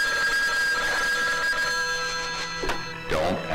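Old telephone bell ringing in a 1980 horror film trailer, a steady trilling ring heard fairly loud over tense background sound and music.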